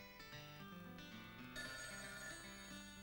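In a Bob et Bobette animated feature, Les diables du Texas, a telephone rings with a repeated bright trilling bell pattern over soft musical tones, quiet and steady throughout.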